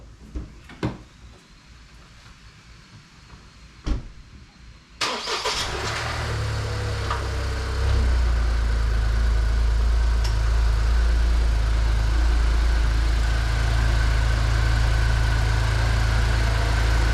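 A 2020 Ford Escape with the EcoBoost engine cranks and fires up after a few clunks, then settles into a steady, loud idle close by.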